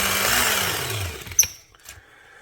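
A knife is sharpened on an 800 grit belt grinder, a loud abrasive grinding whir that winds down after a sharp contact scrape, leaving faint trailing noise.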